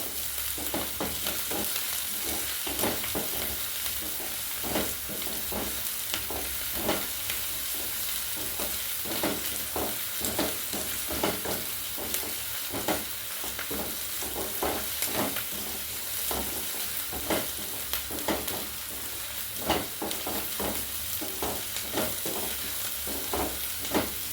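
Curry ingredients with green chilies sautéing in a hot pan, a dense constant sizzle with rhythmic stirring scrapes recurring throughout, close and fairly loud.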